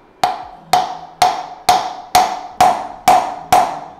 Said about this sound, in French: Je vais venir chercher un marteau, tapoter au-dessus pour pouvoir faire rentrer de force mon Torx à l'intérieur et déverrouiller la vis